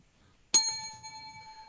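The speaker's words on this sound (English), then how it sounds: "A good pun or punchline will get a bell" One sharp bell strike at an improv comedy match, ringing out clearly with a long sustained shimmering tone that fades slowly, faint murmurs of a crowd beneath.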